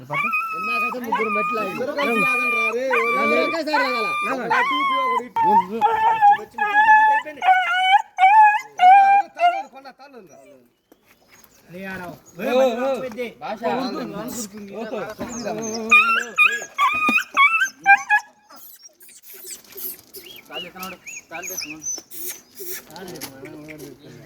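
A puppy whimpers in a run of high, thin whines, then more scattered whimpers mixed with people talking close by.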